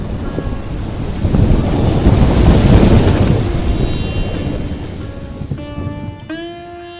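Heavy rain lashes down with gusting wind in a broad, roaring wash that swells and then eases, with a few faint tonal sounds appearing near the end.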